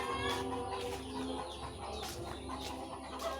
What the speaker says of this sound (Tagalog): Titingnan ko lang yung aking mga alagang manok doon.